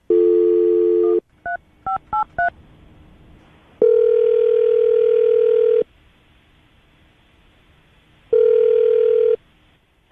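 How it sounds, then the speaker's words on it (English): Touch-tone telephone dialing: a dial tone, then a quick run of short DTMF key beeps, followed by two long ringback tones separated by silence, clear and close. "We're going to call her right now, get her on the phone, and see if we can get an answer."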